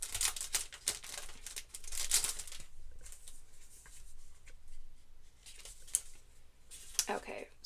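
Paper sticky notes being unpacked and handled for a planner, with intermittent crinkling, rustling and tearing bursts close by, a few sharp snaps near the end.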